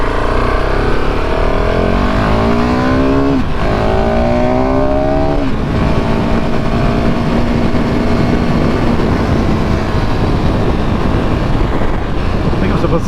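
A KTM 690 SMCR single-cylinder motorcycle is ridden on the road, its engine loud and close as it revs up through the gears with rising and falling pitch, then holds a steady drone under wind noise, with no voices.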